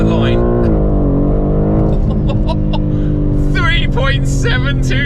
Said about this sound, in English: Launch control in the brand new M4 competition.